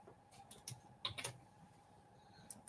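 A few quiet bursts of keystrokes come from a computer keyboard in a home craft room, faint and fairly close, separated by pauses against a low background hum.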